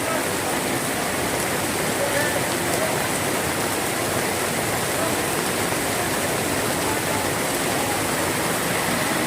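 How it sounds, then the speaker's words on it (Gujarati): Heavy winter rain pours steadily in Dubai, a dense unbroken hiss of drops hitting surfaces close by, with no letup. "આજે બહુ સરસ વરસાદ થાય છે, બહુ સરસ."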